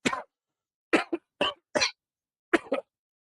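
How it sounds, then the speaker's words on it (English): A series of coughs: one near burst, then a pause, followed by several short coughs in close pairs, with silence between them. "leans against the wall and starts coughing."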